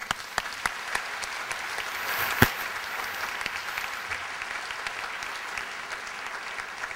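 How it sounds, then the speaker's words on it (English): Applause from an audience at a book premiere for the Croatians of Chicagoland, a steady moderate clapping with a few sharper close claps that keeps going at an even level. "an applause"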